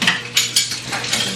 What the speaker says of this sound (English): It's silverware.